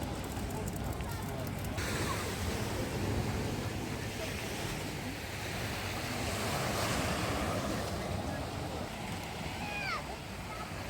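Rough evening sea at Odesa's Malyi Fontan and Arcadia seafront, waves surging and breaking steadily onto the shore with wind buffeting the microphone, and a voice talking over the continuous surf.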